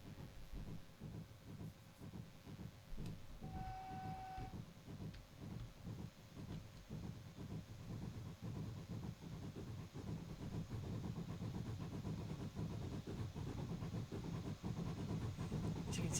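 A pannier tank steam locomotive in Train Simulator chuffs along the Falmouth route with a steady rapid exhaust beat, rail clatter and hiss, and a brief whistle toot early on, continuous and building slightly in loudness.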